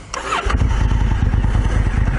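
A DCT off-road motorcycle engine fires up after a brief starter whir, settling into a loud, steady, throbbing idle close by with no talking.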